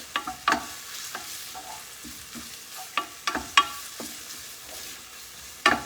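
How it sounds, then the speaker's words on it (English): Thinly sliced ingredients sauté in a pan for an Amatriciana pasta sauce, a steady sizzle broken by a series of sharp spoon-against-pan stirring clicks, close and fairly loud, with no talking. "We're going to stir that around"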